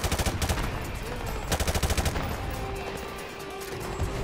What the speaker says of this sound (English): That's a lot of freaking small arms fire.